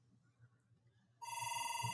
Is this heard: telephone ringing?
yes